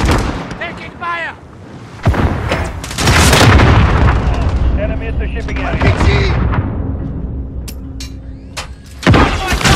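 Heavy gunfire and booming blasts in a Call of Duty Modern Warfare hardpoint match, loud overlapping shots and explosions while the player takes fire, with shouted in-game callouts mixed in.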